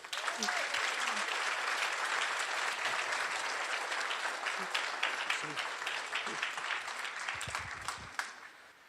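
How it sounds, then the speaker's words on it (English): Sustained applause from a business breakfast audience, loud and dense from start to finish, fading slightly near the end with a few scattered voices mixed in. "I want everyone to acknowledge by clapping their hands for Mr. John Rogers."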